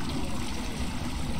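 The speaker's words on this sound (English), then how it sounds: "we need to listen to that premium flush" A toilet flushing in the Phasmophobia video game makes a steady, close rush of water that runs without a break for the whole short stretch.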